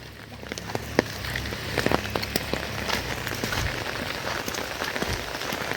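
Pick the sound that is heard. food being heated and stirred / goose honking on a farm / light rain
light rain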